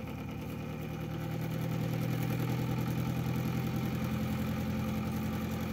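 A large simple pulse motor cranked up to maximum power, running with a steady low chugging hum and fine rapid pulsing, close and constant throughout.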